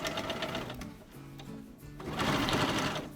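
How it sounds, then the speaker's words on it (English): A sewing machine runs in steady bursts, joining quilt blocks with a close, mechanical whirring, briefly easing off before resuming at full pace. "Right here, I am sewing the blocks together."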